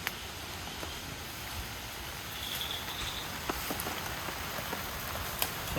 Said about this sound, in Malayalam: മഴ വീണ്ടും പെയ്യുന്നുണ്ട്,